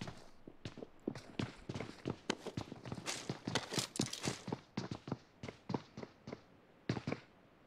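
Players land nearby in the mobile battle-royale game PUBG Mobile, giving a quick, uneven series of soft thudding impacts like hurried footsteps, moderately close and with no talk over them.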